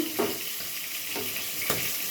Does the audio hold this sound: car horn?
no